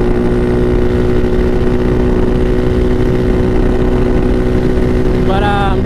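A Bashan Motomax 250 motorcycle fitted with a Nibbi PE30mm carburetor drones loudly and steadily while riding, a constant close engine roar with no pauses.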